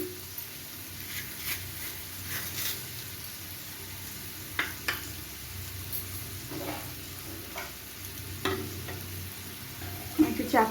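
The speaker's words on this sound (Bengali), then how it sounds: "মশলাগুলো সুন্দর করে কষানো হয়ে গেছে" Spices sizzle softly in a pan as they are stir-fried for a Bengali banana flower curry. A low, even hiss runs throughout, with intermittent clicks and scrapes of the spatula.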